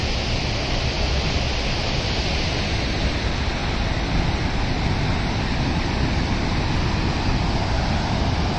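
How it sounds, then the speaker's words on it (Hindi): A waterfall in Azad Kashmir roars as a steady, dense broadband rush of falling water, loud and unbroken throughout, with no voices. "ये आबशार है जी।"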